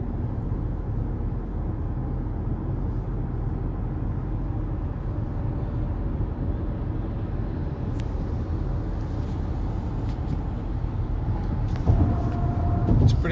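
Steady interior road rumble and engine drone from a 2017 Honda Civic EX cruising normally, a constant broadband hum with a few faint clicks and a slight rise near the end, no voices.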